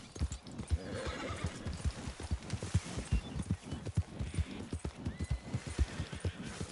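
A horse gallops in Red Dead Redemption 2, with rapid, steady clip-clop hoofbeats throughout and a whinny mixed in, close and continuous with no talk.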